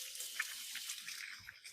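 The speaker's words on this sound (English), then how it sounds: "I'm going to wash my hands" Tap water runs steadily into a kitchen sink for hand washing, a soft, even hiss with faint splashes, heard alone at low volume.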